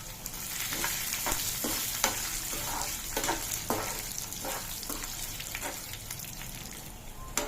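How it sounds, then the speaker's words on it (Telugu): Garlic and dried red chillies fry in a pan for a gongura chana dal chutney, giving a steady close sizzle broken by repeated sharp stirring scrapes and clicks, with no talk. "ఈ టైంలో వెల్లుల్లి ఎండుమిర్చి వేసుకుంటున్నాం"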